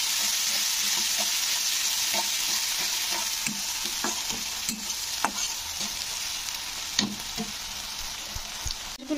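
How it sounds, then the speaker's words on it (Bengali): Chopped onion fries in hot oil with spices for a Bengali chital fish kalia, a constant bright sizzle close by with scattered light spatula scrapes and taps, and no one speaking. "পেঁয়াজটাকে কিন্তু একটু ব্রাউন করে ভেজে নিতে হবে"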